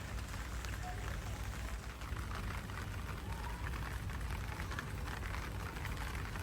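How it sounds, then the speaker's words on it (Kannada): Steady rain falls on a rooftop terrace garden, a dense, even hiss of drops pattering on hard surfaces and leaves that holds constant throughout, with no voices. "ಮಳೆ ಬರ್ತಾ ಇದೆ ಮತ್ತು ತಾರಸಿ ತೋಟ ನೋಡೋಕ್ಕೆ ತುಂಬ ಅಂದವಾಗಿದೆ"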